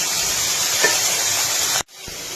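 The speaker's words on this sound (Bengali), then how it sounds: "1 চামচ কাঁচা লঙ্কা বাটা দিয়ে এটা একটুখানি কষে নিতে হবে" Fish roe frying with green chili paste in a pan gives a steady, bright hissing sizzle that holds loud and even, then cuts off abruptly near the end before a quieter sizzle resumes, with no voices.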